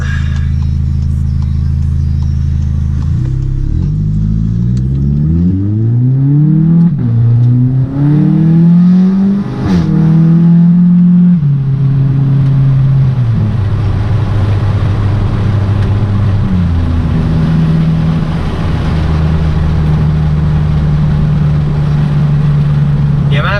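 A DSG-equipped car's engine revs up and down repeatedly, the pitch climbing and falling across several throttle blips before settling into a steady, loud running drone, recorded close by with no talking.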